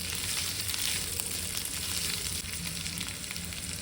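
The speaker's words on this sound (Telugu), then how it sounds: "ఇప్పుడు పచ్చిమిర్చి కరివేపాకు ఇవి వేసి ఇది కూడా కలిపి వేపుకోవాలి" Green chillies and curry leaves frying in hot oil with ginger, producing a dense, loud, unbroken sizzle heard up close with no speech.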